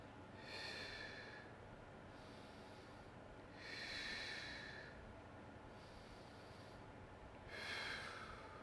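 Three slow, deep breaths during a Kinstretch mobility stretch, each a soft, close, hissing inhale and exhale, spaced evenly about three seconds apart, quiet and alone.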